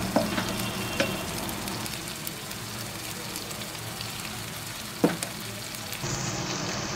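Shallow-fried lamb chops being cooked in a tomato masala in a pan, a steady rain-like sizzle with occasional spatula knocks and scrapes, fairly even and close.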